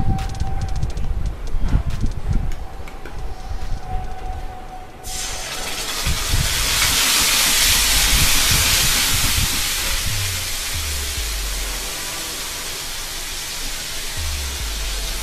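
Cumin seeds in hot oil for a tadka, a loud steady sizzle bursting in partway through and holding as a close, bright hiss after some quiet kitchen clatter.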